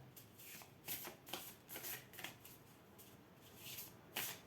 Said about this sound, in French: Je vais sortir deux cartes, hein, sur l'oracle du tambour.